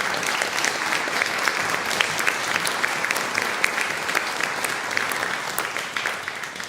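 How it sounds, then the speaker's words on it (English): Audience at a tuba chamber music festival concert clapping, a sustained dense burst of applause from a roomful of people, fairly close and steady for several seconds. "So I want to give him a round of applause."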